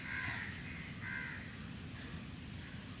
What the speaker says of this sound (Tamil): இங்கே பாருங்கள் காக்காய்கள்லாம் நிறைய சுற்றிக்கிட்டு இருக்கு